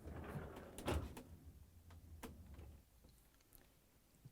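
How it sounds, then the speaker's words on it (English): Freezer door of an LG/Kenmore refrigerator swinging open, a single soft thump with a brief suction release, followed by a couple of faint clicks against low room noise. "Next, I'm going to open the freezer door."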